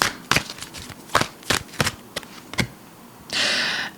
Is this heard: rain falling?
no